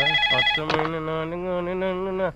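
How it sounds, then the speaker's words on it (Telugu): A phone ringtone plays on its own, close and fairly loud: a steady electronic melody of sustained, bright tones that runs for a couple of seconds before cutting off. "ఒరే అల్లుడు ఫోన్ రా. ఎత్తు."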